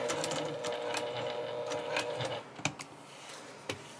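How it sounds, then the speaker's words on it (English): A sewing machine stitches a handbag, the Riviera Handbag pattern, running steadily and close for about two and a half seconds before stopping, followed by a few soft clicks and handling knocks. "And then we're going to sew."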